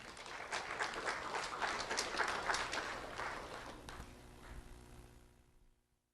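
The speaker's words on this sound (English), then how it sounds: "Let's have a round of applause for Allie Dunn" A crowd applauds an elementary school student being introduced, a dense patter of many hands clapping at moderate distance, swelling briefly before fading away to silence.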